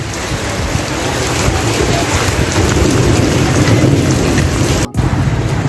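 Steady heavy monsoon-style rain pours down in a dense hiss, loud and close, with a brief cut near the end.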